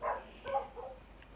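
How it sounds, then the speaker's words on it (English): Dogs barking in the background during a Black Ops III gameplay session, a few quick muffled barks close together, faint and distant, with no voices. "Sorry about the dogs in the background."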